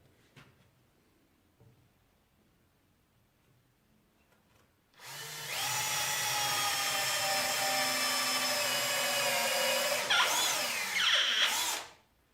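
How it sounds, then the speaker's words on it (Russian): After a quiet pause, a power drill whirs loudly and steadily for about five seconds, boring small holes in a tool handle, its pitch shifting slightly near the end before stopping abruptly. "Поэтому я просверлю у ручки дырочки."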